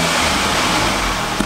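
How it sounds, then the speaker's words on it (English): An Audi S3 engine with its air filter removed runs at a rough, stuttering idle, a steady close-up drone filling the whole clip with a slight blip near the end. "Got a bit of stuttering, but the engine actually sounds okay"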